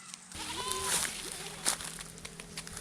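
Goats bleat a few times at close range, wavering calls over faint background noise and light footsteps.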